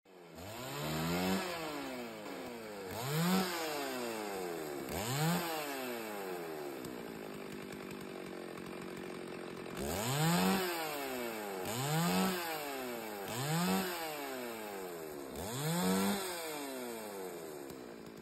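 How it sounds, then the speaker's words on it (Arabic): A chainsaw cuts repeatedly, its motor rising and falling in pitch with each pass, separated by brief idling stretches, loud and close with no talking. "هكذا تم تحويل المنشار الكهربائي إلى آلة تقطيع"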